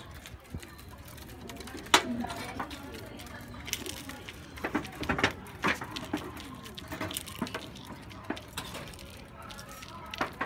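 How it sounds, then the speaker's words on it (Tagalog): Pigeons flutter and shuffle close by, wings beating in scattered bursts, with soft cooing mixed into the commotion. "nagkagulo na yung aking mga kalapati"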